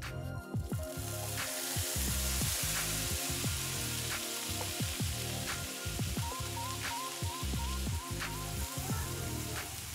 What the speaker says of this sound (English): Add the chopped tripe after the butter is hot.